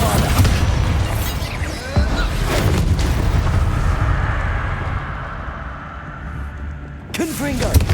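A Bombarda explosion spell in Hogwarts Legacy blasts with deep booming bursts, one early, another around two seconds in and a sharp final one near the end, with rumbling debris and ambient effects lingering between them.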